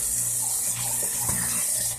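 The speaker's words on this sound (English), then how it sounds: "And we're using warm or hot water here." Warm or hot water runs steadily from a kitchen sink tap beside an Insinkerator disposal, a continuous close hiss and splash with no talking.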